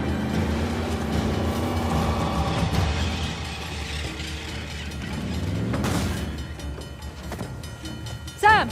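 Train rolling along tracks in the video game Uncharted: The Lost Legacy, a steady mechanical rumble with clanking and ratcheting under game music and effects, ending with a sharp louder hit.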